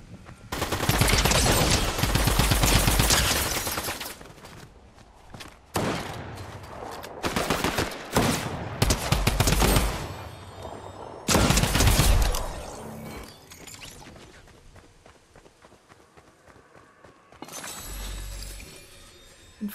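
Rapid automatic gunfire in Fortnite in several long bursts separated by brief pauses, loud and close, with quieter clicks and mechanical sounds between.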